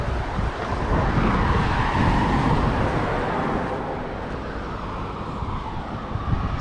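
Road traffic passing a pedestrian crossing near the Torbay seafront, a continuous rushing roar of vehicles going by close at hand, peaking early and then easing a little, with no talk.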